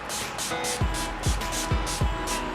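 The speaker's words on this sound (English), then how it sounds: "I'm going to take this Urban Decay De-Slick Setting Spray" Several quick hissing bursts of Urban Decay De-Slick Setting Spray in a steady rhythm, close by, each a short airy puff of mist with faint thumps between them.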